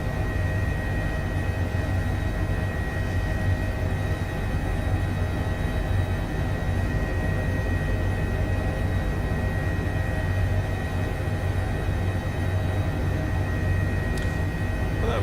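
H145 helicopter in Microsoft Flight Simulator on a HEMS flight, a loud, dense, continuous rotor and turbine roar holding steady throughout with a constant high whine, no talk.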